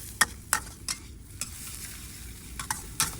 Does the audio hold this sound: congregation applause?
no